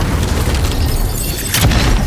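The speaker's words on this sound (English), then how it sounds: "Let's pick them up in the air and slam them down on the ground." In the video game Avowed, enemies are slammed to the ground by an ability, a dense rumbling boom with a sharper impact burst near the end.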